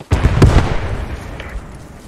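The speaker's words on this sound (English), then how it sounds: "Oh, shots." Gunfire in the Post Scriptum war game: a burst of several loud, sharp shots in quick succession near the start, with rumbling echoes trailing off afterward.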